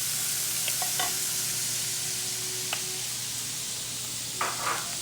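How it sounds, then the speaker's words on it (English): Garlic and onion sautéing in a pan, a loud, even hiss of frying with a few faint clicks of utensils scattered through. "I'm going to add my garlic and onion in there. And let that start sauteing."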